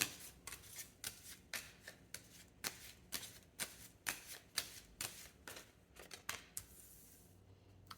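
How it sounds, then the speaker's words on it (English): Cards from a playing card deck being shuffled and pulled, making a steady series of crisp riffling snaps roughly twice a second, close and fairly quiet, with no talking. "I'm just going to pull a few cards from my playing card deck here"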